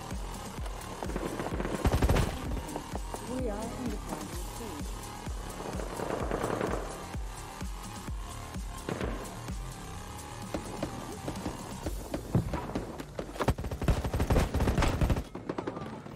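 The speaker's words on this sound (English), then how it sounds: "Shoot him!" Rapid assault rifle fire in the mobile shooter game Battle Prime, dense crackling bursts of automatic shots running almost continuously, loud and close, with no voices over them.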